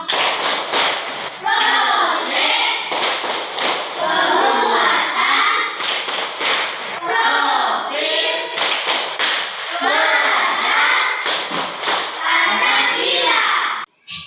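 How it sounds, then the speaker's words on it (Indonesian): Schoolchildren in a class clap the rhythmic P5 pattern, sharp bursts of clapping grouped in quick beats alternating with chanting voices, loud and close throughout. "kita buat tepuk P5."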